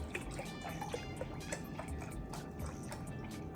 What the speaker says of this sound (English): I'm gonna be using a liquid measuring cup for this as well. So let me pour a cup.